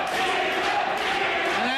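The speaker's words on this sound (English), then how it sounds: "that draws the applause and the adulation of the Hero supporters on this evening" A wrestling crowd cheering Chris Hero, a dense roar of voices and shouting filling the arena for a couple of seconds.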